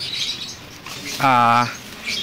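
A lovebird chirps once, a short loud call at close range, amid quiet background noise during a bird delivery.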